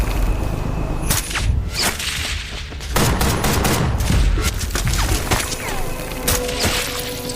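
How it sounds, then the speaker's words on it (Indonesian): Bursts of gunfire in a sniper film crack out in quick volleys and single shots, loud and close, with whooshing movement and impacts between them. "Dengan tembakan jitu, Mirko berhasil menghabisi 2 orang."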